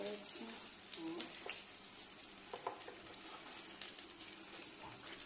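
Diet envelopes sizzle as they fry in a pan, giving a steady, close crackle with a few brief clicks over it.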